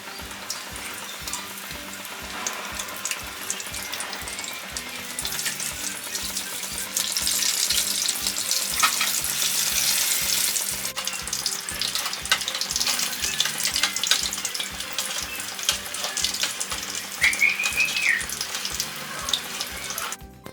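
Bajji fritters bubble and sizzle in hot oil, a steady dense crackle that swells louder partway through and holds, with faint clinks of a utensil and no talking.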